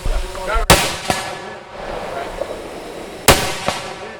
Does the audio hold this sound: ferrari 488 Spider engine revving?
no